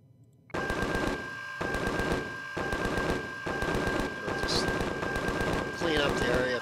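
An automated defense turret in Empyrion fires rapid bursts of machine-gun rounds at enemies, loud repeated volleys with short gaps between them after a brief quiet start, with someone talking over the shooting.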